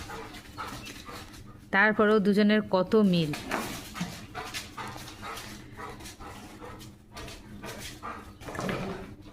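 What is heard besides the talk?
dog whimpering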